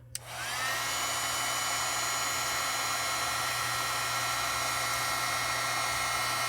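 A heat tool blowing hot air onto Heat and Bond embossing powder for foiling: a brief click, then a steady loud whooshing drone with a constant motor hum that continues unbroken throughout.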